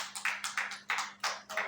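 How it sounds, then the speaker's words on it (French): A church congregation claps together in a steady rhythm, about two claps per second, the sound bright and moderately loud with a low hum behind it. "On va applaudir pour la gloire de Dieu."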